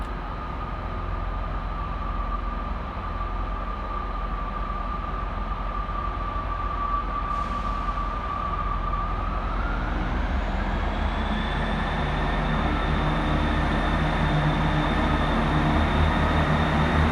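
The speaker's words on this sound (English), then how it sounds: "Over on the far side departed is 158755, working the 1036 Northern service from Wigan Wallgate through to Leeds." Northern train 158755 pulls away from a far platform at Manchester Victoria station, its engine hum rising in pitch as it gathers speed, heard at a moderate distance over steady station ambience.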